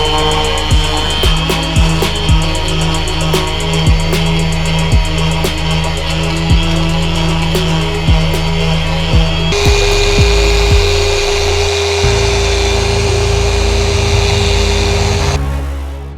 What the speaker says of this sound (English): we have to use such a high speed to cut that it just destroys the foam membrane